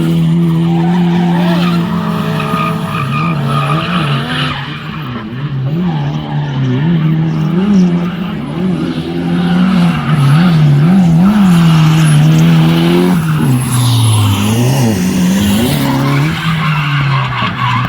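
A Honda Civic drifts with tires skidding and squealing continuously under a revving engine, loud and close for the whole stretch, the pitch wavering as the car slides.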